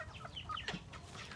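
A rooster and hens clucking in a backyard flock, a short burst of close, quiet clucks and chattering calls over a low background rumble.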